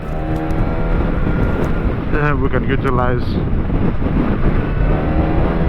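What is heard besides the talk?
wind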